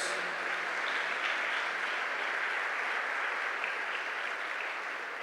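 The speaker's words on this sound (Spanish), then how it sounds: "Damos fuerte nuestra ofrenda de palmas a nuestro Dios, hermanos" A church congregation applauds as an offering of praise to God, a dense, steady wash of clapping that holds at moderate volume throughout without a break.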